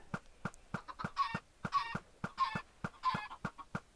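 Minecraft chickens cluck in a blocky game chicken farm, with repeated short clucks in a steady, evenly spaced rhythm, close and clear with nothing else around them.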